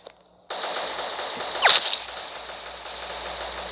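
Rapid gunfire in the Roblox video game, a continuous machine-gun burst that starts abruptly after a brief quiet moment and peaks with a sharp impact before settling into steady firing.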